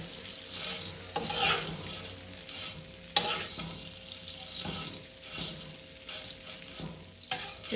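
Dry vermicelli noodles parching in hot oil in a pot, a soft continuous sizzle broken by scraping stirs and a sharp clatter of the utensil against the pan.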